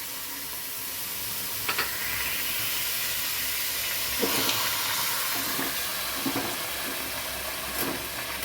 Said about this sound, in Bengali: এবার আমি এর মধ্যে হাফ কাপ জল দেবো।